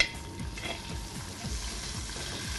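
Long-sliced onions and slit green chilies frying in a pan with a soft, steady sizzle, punctuated by a regular rhythm of gentle stirring scrapes about every half second; quiet and close, with no voices.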